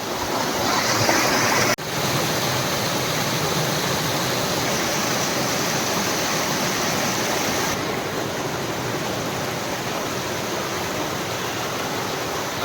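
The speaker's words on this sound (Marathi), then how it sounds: "पहा ह्या दोन जंगलामधनं येणारे हे दोन्ही धबधबे आहेत" A steady, loud roar of rushing water from two monsoon waterfalls pouring out of forest in the Sahyadri hills goes on without pause, with a brief dip near the start.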